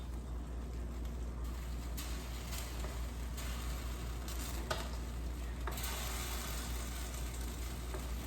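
A hamburger noodle casserole is stirred in a pan: a steady sizzle with soft scraping and a few brief clacks of the utensil, close and continuous, with no talk.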